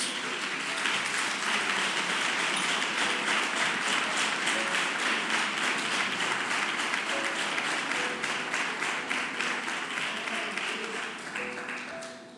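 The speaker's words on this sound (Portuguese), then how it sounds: "Vamos dar um forte aplauso a esses irmãos." A church congregation applauds steadily and loudly, a dense wash of many hands clapping that holds for about twelve seconds before tapering slightly at the end.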